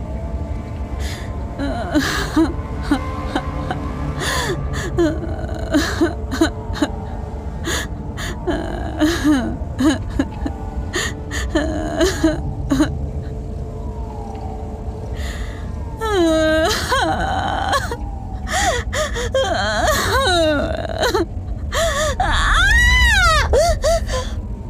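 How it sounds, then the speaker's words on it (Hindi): Gasping, whimpering sobs repeat in uneven bursts, growing more intense and higher-pitched toward the end, with no clear words. "सिसकने की आवाज बढ़ने लगी"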